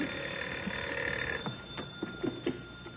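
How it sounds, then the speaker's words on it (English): A telephone bell rings steadily and close by in a comedy television sketch, its continuous metallic ringing holding for about a second and a half before breaking into a few short bursts and knocks. "Answer the phone. It might be another order."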